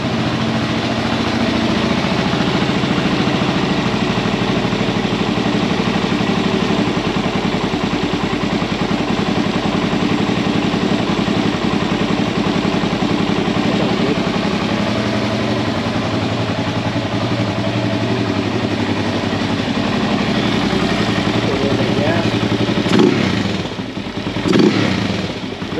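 Motorcycle engine idling a bit high after a carburetor float adjustment, a steady close, continuous mechanical rumble with light clatter, running alone with no talk, and a brief change in tone near the end.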